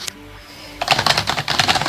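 UtechSmart Saturn gaming keyboard being typed on, a quick burst of clacky keystrokes in an uneven stream after a short quiet moment, close and fairly loud with no talking.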